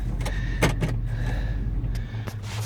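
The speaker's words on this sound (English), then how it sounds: "if you like creaking doors, this is your day." The door of an abandoned 1971 Plymouth Scamp sitting in a shop creaks and groans in several slow passes, with short sharp squeaks standing out over a steady low background hum.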